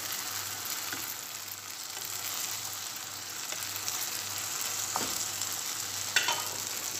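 Two eggs fry in a pan with sautéed bitter gourd, giving a steady close sizzle with crackling hiss throughout and a few brief clinks, with no talking.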